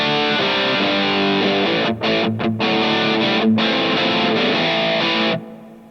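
Distorted electric guitar played through a Tone Junkies AI impulse response on a 1x12 cabinet with a 545 mic combo, brighter setting; loud, sustained chords with a few short breaks, heard alone.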